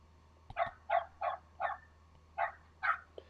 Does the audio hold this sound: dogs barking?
yes